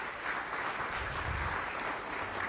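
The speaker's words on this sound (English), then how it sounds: "round of applause for the Secretary and his team for that" Audience applause for the U.S. Secretary of State and his team at a diplomacy event, sustained even clapping from a room full of people, moderately loud and steady throughout.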